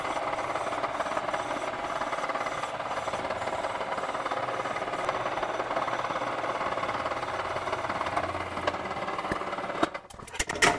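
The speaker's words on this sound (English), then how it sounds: "I'm going to put my lathe on the highest speed and give it the final finish." A metal lathe runs at its highest speed while a copper part gets its final finish, producing a continuous busy mechanical whir and rattle at steady loudness that ends with a few brief clunks.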